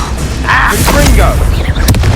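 Confringo, the explosive spell from Hogwarts Legacy, goes off as a loud, dense burst of rumbling, crackling blast noise. A short sharp crack lands near the end, and combat sounds and voices are mixed in.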